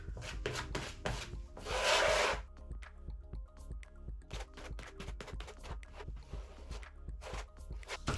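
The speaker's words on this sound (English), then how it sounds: "I'm just going to spread that on with a plastic spatula" Texture paste being spread across a canvas with a plastic spatula for a textured abstract painting: close, soft scraping and rubbing strokes in irregular bursts, one longer drag standing out, with no voices.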